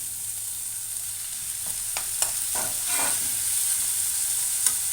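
Tomatoes sizzle in a hot pan while a spoon stirs them, giving a steady frying hiss with a few short scraping strokes partway through, with no talk.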